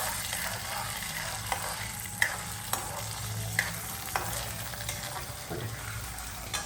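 Aravanai, a Srirangam temple sweet, fries in ghee with a steady close sizzle, broken by a few sharp clicks of a spoon stirring and scraping the pan, no voices.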